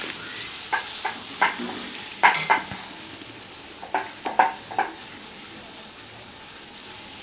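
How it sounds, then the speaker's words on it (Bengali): Bhatura deep-frying in hot oil for chhola bhatura: a low steady sizzle under intermittent sharp bubbling bursts and stirring clinks, close and moderately loud, no voices. "লাল লাল করে ভেজে নিলাম। এখন নামিয়ে দিব, আরেকটা ছাড়বো এই তেলের মধ্যেই।"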